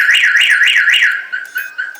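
A Viper car alarm on a Nissan 240SX wails loud and close in a fast rising-and-falling siren, about four sweeps, then shifts to a steadier tone broken by short chirps.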